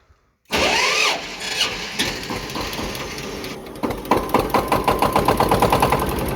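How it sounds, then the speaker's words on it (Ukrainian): After a brief silence, the single-cylinder engine of a Kentavr 240V 24 hp motor tractor starts with a burst, then runs with a loud, rhythmic chugging that grows into distinct, regular thumps close by. "Отак працює один цилиндр."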